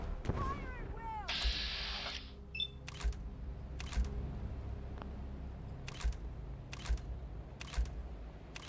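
Gunfire in Fallout 4 as settlers fight off attacking scalpers: a string of sharp, evenly spaced shots cracks out about once a second over a low rumbling game soundscape, with other game effects near the start.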